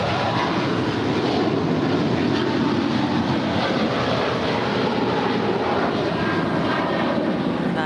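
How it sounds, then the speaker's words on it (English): A Boeing 777-300ER airliner departs LAX on a flight to Shenzhen, its jet engines a steady, loud, broad roar that holds throughout with no talk. "That is flight 770 off to Shenzhen. 777-300ER."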